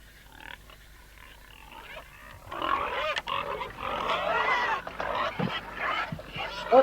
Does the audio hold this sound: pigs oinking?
yes